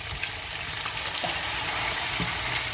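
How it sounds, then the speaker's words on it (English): Brisket sizzles and spits steadily in hot rendered fat in a fry pan, a close, continuous crackle with a few soft taps and scrapes of tongs. "Just look at that sizzle."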